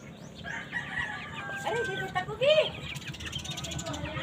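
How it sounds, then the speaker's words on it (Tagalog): Chickens clucking nearby and a rooster crowing, with people talking over the birds. "Hala, sunod-sunod na yung mga manok."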